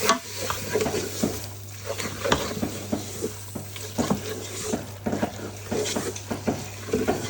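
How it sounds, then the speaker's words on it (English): Turmeric, jeera and coriander powder are stirred in a pan, with repeated close scraping and clinking strokes over a light sizzle and a steady low background hum. "Give them good stir."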